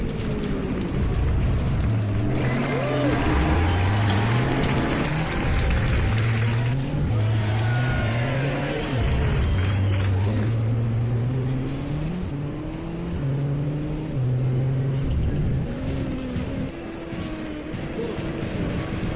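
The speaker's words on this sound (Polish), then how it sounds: "Tyle strzałów z rury wydechowej nie zaprezentował nam jeszcze żaden z uczestników." A Fiat Punto Super 1600 rally car revs hard through a stage, its engine rising and falling steadily while sharp exhaust bangs and pops crack out over the roar, loud and close throughout.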